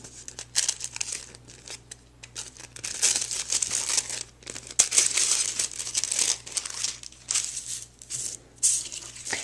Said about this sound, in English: I'm going to remove those from the die, and I'm going to go ahead and unfold them